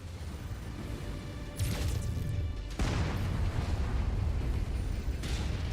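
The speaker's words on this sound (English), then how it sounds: "Had enough of these artillery cannons." Heavy artillery cannon fire in the mech combat game MechWarrior 5, with booming broadband blasts at roughly 1.6 and 2.8 seconds over a constant loud rumble, with no talking.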